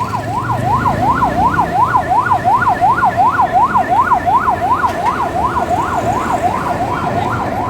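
An ambulance siren wails in a fast, steady up-and-down pattern, loud and close, as the ambulance pushes through a road jammed with traffic during street protests. Engine noise sits underneath.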